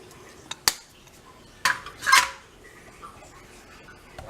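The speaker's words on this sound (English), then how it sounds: "we're just going to stir all this in" A spoon clanks and scrapes against a pot while homemade BBQ sauce ingredients are stirred together, a few sharp metallic knocks followed by a brief louder scraping swirl, close and otherwise quiet.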